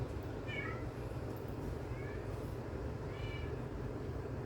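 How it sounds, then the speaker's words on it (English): An upset indoor cat meows several times, faint and distant, the cries thin and drawn out over a loud, steady low rumble filling the room. "I got a cat that's really upset."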